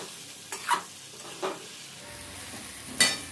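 Fish head and rice frying and being stirred in a pan over a medium flame: a soft sizzle underneath, with a handful of sharp spoon scrapes and clinks at irregular moments.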